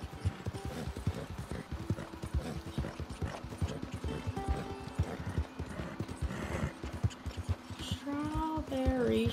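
Horse hooves clip-clop steadily in Red Dead Redemption 2, a continuous close rhythmic trot that carries on throughout, with a neigh near the end.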